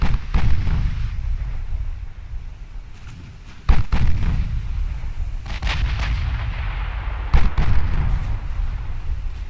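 Heavy naval guns booming from warships in Ultimate Admiral Dreadnoughts, set around 1929, with deep repeated blasts and rumbling salvos over continuous low battle noise, loud and close, a few sharp cracks standing out.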